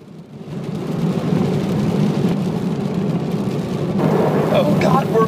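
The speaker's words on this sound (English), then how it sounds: "Pouring rain." Heavy pouring rain drums steadily on a Ferrari 360 Modena, a dense, constant rushing wash that is loud and close with no pauses.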